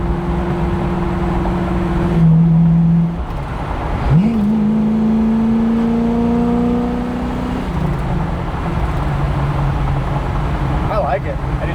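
A 1970 Chevrolet Camaro cruising down the road, its steady engine drone and whirring tones shifting as it accelerates, heard from inside the car under intermittent conversation.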